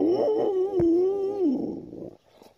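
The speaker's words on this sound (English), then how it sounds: "That is a happy dog." A dog gives a long, wavering whimpering howl up close, loud and tonal with a sharp click partway through, then trailing off into quieter background noise.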